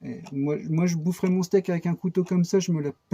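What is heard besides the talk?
None of the usual background noises is heard.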